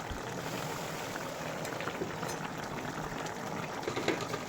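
Chapila fish curry with red amaranth stems simmering on a stove, a steady close bubbling and sizzling hiss that continues without a break and with no talking.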